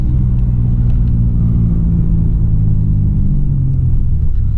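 Steady low rumbling drone of a 2002 Pontiac Firebird V6 with a muffler delete and intake silencer delete, a manual car cruising on a backroad, heard from inside as a continuous deep engine hum with no talk.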